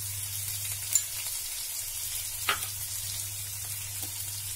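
Brinjal sautéing in hot oil for a simple stir fry, a steady low sizzle running throughout with two brief sharp clicks of a spoon or pan partway through.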